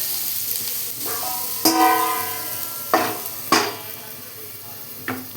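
Thalipeeth cooking on a griddle as water is sprinkled on and a lid is set over it: several distinct metallic clanks, one ringing briefly, spaced over a low, quiet background sizzle.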